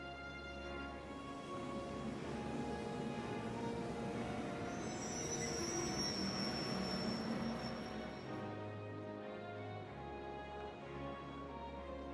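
A steady train rumble with low engine drone and faint high squeal from the video game The Legend of Heroes: Trails of Cold Steel, continuous and fairly loud throughout, no talking.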